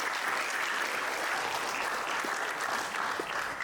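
An audience at a meet-and-greet event for an Indonesian student training center applauds steadily, an even, continuous clapping crowd without speech over it.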